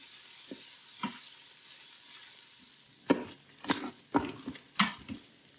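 Bacon frying and browning in an Instant Pot, with a soft steady sizzle broken by several sharper scraping and stirring clinks toward the end, heard close with no speech.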